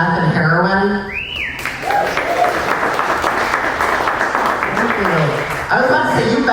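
A comedy club audience breaks into loud applause and scattered whistles, filling several seconds between spoken lines from a performer.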